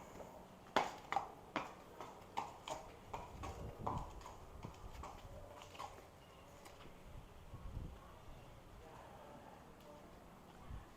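A horse led back and forth at a walk near the edge of a barn, its hooves clip-clopping in an irregular, fairly close series of knocks that fade slightly as it moves, with faint rustling in the background.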